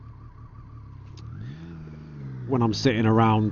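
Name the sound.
motorcycle engine buzzing at motorway speed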